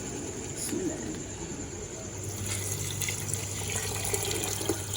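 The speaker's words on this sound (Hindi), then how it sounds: "अब इसमें मैं पानी डालूंगी" Water pours steadily into a cooking pot on a home stove, a continuous close splashing rush that thickens partway through, with faint background noises around it.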